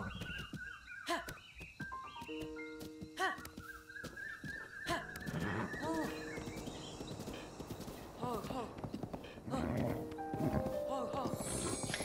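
A horse in the video game Zelda: Breath of the Wild, with busy hoof clip-clops and a few short whinnies mixed among game effects, while someone talks over them.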